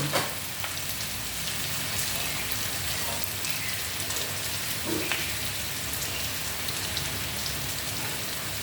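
Spices hitting hot oil give a steady, close crackling sizzle that holds at an even level throughout, dotted with small pops and stirring scrapes.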